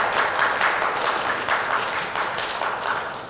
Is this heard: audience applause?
yes